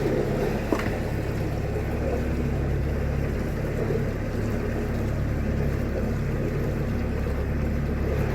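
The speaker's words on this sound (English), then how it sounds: "now you can hear a very different engine of the day" A canal boat engine runs at Worsley Delph with a low, steady rumble and chugging throb, continuous and fairly close, with a single brief knock early on.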